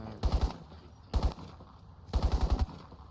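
Automatic weapon fire in the video game Crysis: three loud, close bursts of rapid shots with short gaps between them.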